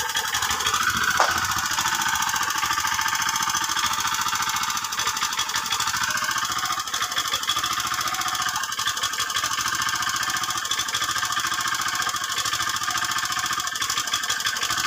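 A loud, steady engine runs without pause, with a rough, rattling knock in its churn. It stays close and constant throughout, and no one speaks.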